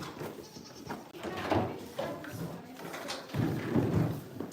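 Young goats bleat at play in a pen with boards, their cries blending with thumps and faint voices across a busy, moderately close scene.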